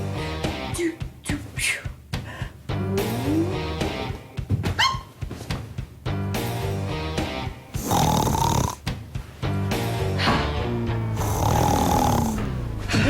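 A person snoring in loud, rough, rhythmic bursts, repeated through the stretch with brief pauses between breaths, heard up close with no talking.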